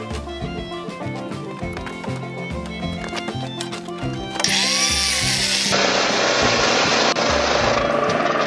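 A power saw cuts wooden roof beams for a post-and-beam truss build: light tapping and tool sounds first, then a loud, sustained cutting roar begins partway through and carries on to the end.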